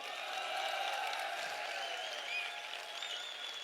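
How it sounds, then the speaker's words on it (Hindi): Sustained audience applause from a crowd at a speech event in Chandigarh, steady dense clapping throughout with no voices over it. "इसके लिए आप लोगों को तालियां बजानी चाहिए"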